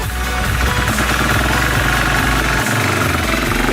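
An SWM RS300R enduro motorcycle engine runs loud and close in a steady, rough, continuous roar that barely varies over a few seconds.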